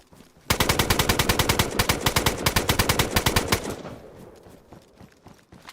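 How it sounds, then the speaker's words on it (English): Rapid automatic gunfire from the DayZ survival video game, a loud sustained burst of evenly spaced shots lasting about three seconds, then trailing off into a fading echo and quiet. "Some real shocking shooting there, dude"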